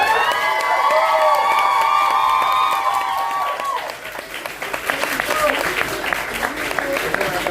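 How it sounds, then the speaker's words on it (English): An audience gives Beverly Bass a big round of applause with cheering and whoops, loud and sustained. Sung or held vocal tones sit over the first half before the clapping thickens and carries on alone. "another huge round of applause for Beverly Bass"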